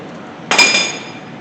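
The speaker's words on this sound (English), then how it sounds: "Hit it a few times with a hammer." One sharp metallic hammer strike on a brake caliper bracket bolt of a 2007 Honda Accord, close and loud, with a bright ringing tail that fades over about half a second.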